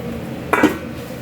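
A lid set onto a pan of eggplant omelette cooking on the stove, one brief close metallic clink and clatter against a quiet background.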